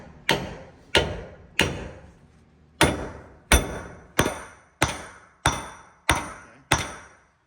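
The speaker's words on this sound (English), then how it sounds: "Just swinging a hammer, then." A hammer strikes the axle spindle on a Prevost bus, ten sharp metallic blows at a steady rhythm, loud and close with ringing decay.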